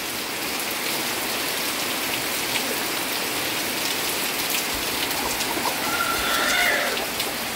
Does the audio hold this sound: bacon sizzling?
no